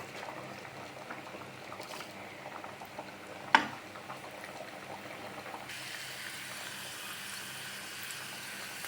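Vadam seasoning sizzles and crackles steadily in hot oil, a soft continuous frying patter with one brief sharper clatter midway.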